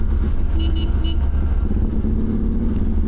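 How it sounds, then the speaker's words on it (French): A short horn toot sounds twice over the steady rumble of an idling 1989 Yamaha XTZ 750 motorcycle engine, close by. "attends, je fais un petit coup de klaxon."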